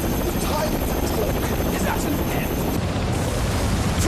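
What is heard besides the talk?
helicopters in Ninja Gaiden video game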